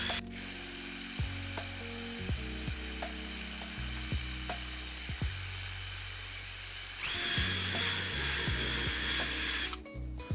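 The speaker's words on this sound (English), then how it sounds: "the carpet that's flattened is being agitated, it's being woken up" Carpet agitator brushes scrub through flattened carpet with a steady, close whirring hiss, a low motor hum under it and repeated soft knocks as the machine moves, the hiss growing brighter and louder near the end.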